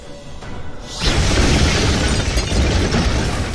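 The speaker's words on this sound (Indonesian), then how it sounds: "mereka yang belum mengetahui jika Zarin sudah memasang beberapa peledak pun alhasil membuat tentara musuh langsung berakhir tewas terkena ledakan" A large blast from planted explosives in a war setting, a sudden loud boom about one second in that gives way to a sustained roar of debris and rumble filling the rest, with no talking.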